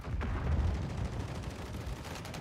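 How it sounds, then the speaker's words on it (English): Gunfire in a shooter video game: a dense burst of rapid shots with heavy low-end booms crowding together, loud and close, then trailing off into rumbling echo with no voice over it. "Oh, I'm panic shooting."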